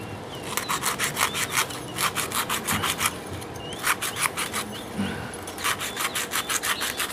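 Sandpaper is rubbed by hand over the bearing housing of a Sekai electric fan motor in rapid, rhythmic back-and-forth strokes. The scratchy bursts are close and steady, with brief pauses between sets.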